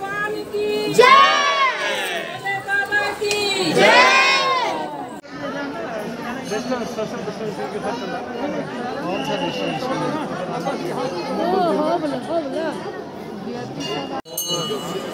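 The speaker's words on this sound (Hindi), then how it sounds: "बहुत भीड़ है" Dense crowd at Trimbakeshwar temple, with overlapping chatter and a few loud shouts near the start, followed by a continuous murmur of many voices close around.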